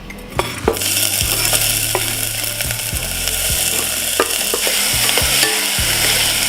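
Onions stirred in a tablespoon of olive oil in a hot pan, a loud steady sizzle with repeated scraping and clinking of the spoon against the pan, close and alone.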